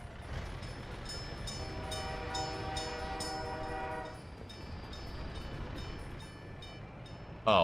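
A train in the city-building game Workers and Resources rumbles steadily, with a sustained multi-tone horn sounding over the rolling noise for a couple of seconds before the rumble carries on alone.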